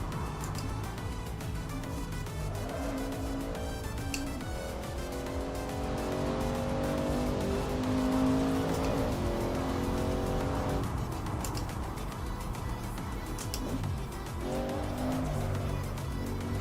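A race car engine in the Assetto Corsa Evo video game, a sustained, fairly loud drone that rises and falls through gear changes, with faint tire squeal and no speech.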